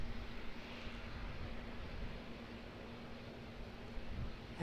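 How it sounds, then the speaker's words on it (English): An ATR turboprop airliner lands at Auckland Airport, heard as a steady, moderately distant broadband engine roar with a faint constant hum underneath, continuous without any talk. "Sweet landing, that ATR sure was."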